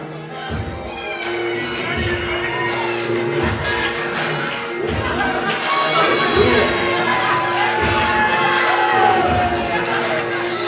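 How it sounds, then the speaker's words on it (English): A wrestling crowd at an Ignition Professional Wrestling show cheers loudly as Steven Styles is introduced, a sustained roar full of shouts and whoops that swells and stays strong throughout. "Excellent reaction from the crowd tonight as Steven Styles is introduced"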